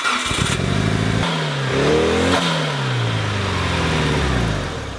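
Used car engine running poorly, a rough, uneven idle with wavering revs that rise and fall, loud and close with no voices.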